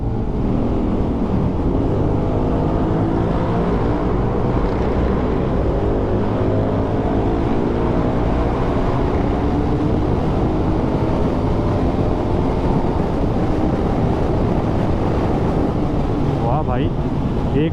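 Engine and exhaust of a motorcycle accelerating hard through a road tunnel up into fifth gear, a loud sustained roar with rising pitch and enclosed rumble, no talk heard.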